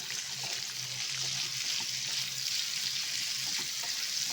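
Chopped onions sizzle in hot oil in a pan, a steady, bright crackling hiss that runs without a break throughout, close up with a faint hum underneath and no talking.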